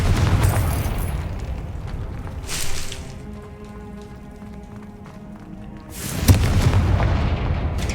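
Blasting spell explosions in Hogwarts Legacy, loud booming bursts with rumbling low-end roar at the start and again near the end, a quieter humming ambience between, no talk.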